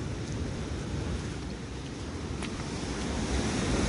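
Rough ocean waves pound the Hokkaido shore near the end of the Hidaka Line, making a steady, loud surf roar mixed with buffeting wind noise throughout.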